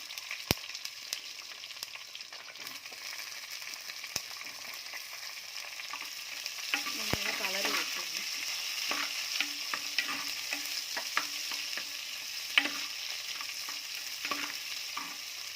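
Chopped onion fries in oil with karuvadam seasoning for a sardine curry, a steady close sizzle with scattered sharp crackles and pops, as a spoon stirs and scrapes the pan now and then.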